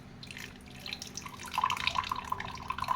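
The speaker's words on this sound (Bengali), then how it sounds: "ব্লেন্ড হয়ে গেছে, মিক্স করে নিয়ে আমি স্ট্রেন করবো। এবার আমি এটাকে ছেঁকে নিচ্ছি।" Blended cucumber mint juice being strained, a close trickle and patter of liquid that grows steadier and fuller partway through, with no voices.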